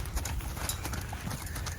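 Horse hooves clop in a steady rhythm on ground during a training exercise for a pacing horse, close and moderately loud, with a brief knock as a back hoof strikes a pole.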